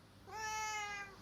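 A cat meows once in the video game Mr Love: Queen's Choice, a single clear, drawn-out meow, close and fairly loud against a quiet background.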